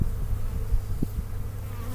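Honeybees hum in an opened hive during a warm February inspection, a faint, low, steady drone of many wings close by with no one talking.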